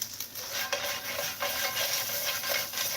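A steady, close sizzling hiss of veggie dumplings frying in a pan, with occasional soft scraping and stirring sounds.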